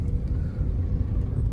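Steady low road rumble of idling and creeping cars stuck in a Pakistani traffic jam, continuous and fairly loud with no distinct horns or voices standing out.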